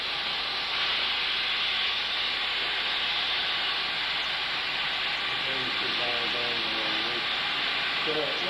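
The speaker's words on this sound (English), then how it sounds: "Now you're starting to hear little steam go through the engine." Steam hisses through the engine of a steam car being started, a loud, continuous broadband rush, with someone talking over it toward the end.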